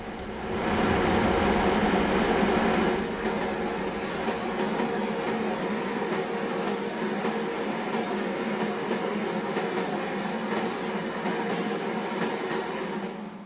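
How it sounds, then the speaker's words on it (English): Tamiya fine grey surface primer hissing steadily from a spray can onto a 1/48 Hasegawa Junkers Ju-87 Stuka model kit, one continuous spray with a few brief clicky breaks toward the end. "I spray it with Tamiya's fine grey surface primer straight from the"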